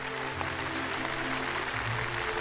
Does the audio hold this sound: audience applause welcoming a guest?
yes